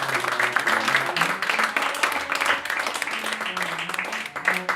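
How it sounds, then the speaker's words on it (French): Audience applause at a French poetry event, a steady wash of clapping from a room of listeners, lasting several seconds with voices and some tonal sound mixed in underneath. "On les applaudit très fort,"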